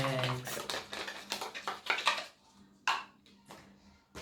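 Egg yolk being mixed in a bowl for a homemade conditioning hair mask, with quick clinking and scraping strokes of a utensil against the bowl that slow into a few separate taps.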